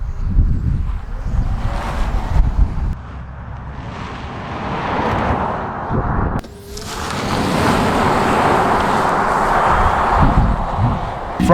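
A 2023 Kia EV6 GT electric car launches hard from a standstill, with a broad roar of wind and road noise that builds, briefly dips, then surges again and stays loud inside the cabin.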